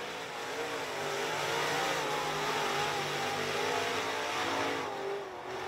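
Hobby stock race cars roar around an oval track during a ten-lap exhibition, a loud, continuous wash of engine noise with rising and falling revs as the pack passes near.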